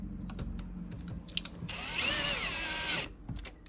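Power drill driving a Phillips screw into a Schlage Touch FBE375 keypad lock, a steady whirring burst of about a second after light handling clicks and taps.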